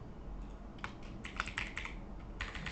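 Typing on a computer keyboard during coding work, a quick run of clicky keystrokes in short bursts, moderately close over a low steady room hum, with no talking.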